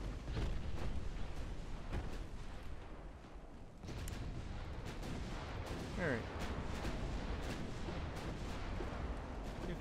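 Warship guns thunder in the naval battle video game Ultimate Admirals: Dreadnoughts as deep booms roll in repeatedly over a constant rumble of battle noise, with occasional sharper reports and speech mixed in.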